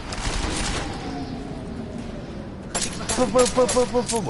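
Pistol gunshots ring out in Deus Ex, a few sharp cracks at the start, then a later burst of rapid shots mixed with clinking and other game sounds.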